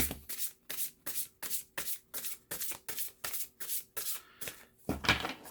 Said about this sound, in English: I think I'll definitely be shuffling them this way for sure.